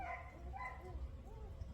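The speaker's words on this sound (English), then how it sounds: "My other dogs, you may hear them in the background." Dogs barking and yipping a short way off in a home with a litter of week-old goldendoodle puppies, a few soft yaps and whimpers over low rumbling background noise.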